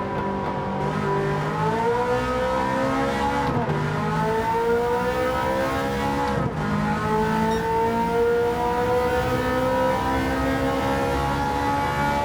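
A race car in Gran Turismo 7 roars continuously as its engine climbs through gears on a long straight, with pitch rising and dropping at two shifts and faint tire noise, loud and close with no talk.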